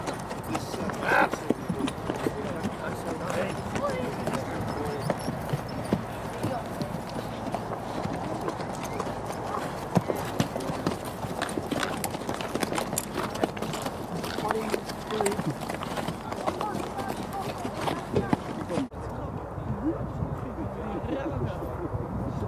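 Horses' hooves clip-clop continuously around the Newmarket racetracks, a busy outdoor patter of many steps under steady background noise, with a brief dropout near the end.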